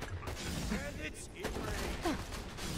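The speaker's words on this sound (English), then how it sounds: "Firework grenade is so good, dude." A firework grenade goes off in the video game Borderlands 2, with a rapid crackling fusillade of small pops and bursts and mechanical clatter, while a voice talks over the action.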